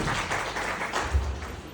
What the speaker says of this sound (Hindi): बहुत बढ़िया, जोरदार तालियां एक बार मांगेंगे।